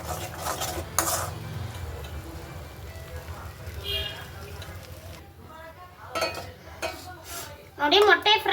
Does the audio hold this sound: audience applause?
no